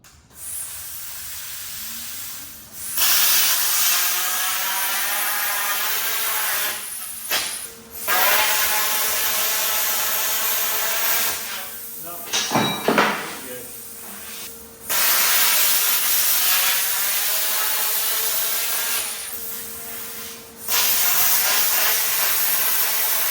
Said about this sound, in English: So we're gonna try the plasma torch and I'll show you how it goes.